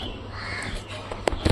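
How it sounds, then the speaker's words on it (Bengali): Birds perched nearby call with a few short, sharp crow-like caws near the end, over faint background hiss. "পাখিগুলো দেখো কোন সাইডে বসে আছে"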